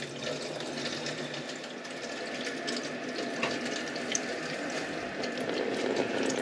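A toilet cistern on a bathroom remodel refills after the water is turned back on, giving a steady close rush and hiss of inflowing water with no one speaking.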